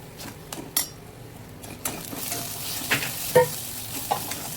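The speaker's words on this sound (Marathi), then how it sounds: "छान परतलाय मसाला, त्याला तेल पण छान सुटले" Spice masala stirred and fried in oil in a kadhai while cooking a drumstick curry, with a steady sizzle under repeated scraping strokes of a spoon and a few sharp metallic clinks, close and fairly loud, no talk.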